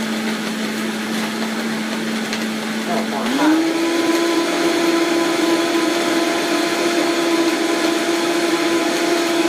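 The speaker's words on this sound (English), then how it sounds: "Let me blend the Vitamix." Vitamix blender running in a home kitchen during breakfast, a loud continuous motor whine that steps up in pitch partway through and holds steady, close and alone.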